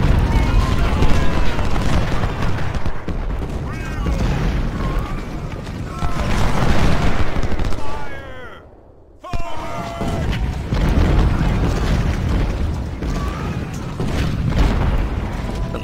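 Napoleon cannons boom repeatedly in the Ultimate General: Civil War video game, deep blasts rolling over a dense battle din, with a brief lull midway and a voice talking over the barrage.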